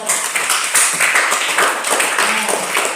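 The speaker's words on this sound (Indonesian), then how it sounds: "Kita beri aplaus untuk doa" A classroom gives a short burst of applause after a prayer, many hands clapping together at close range for about three seconds.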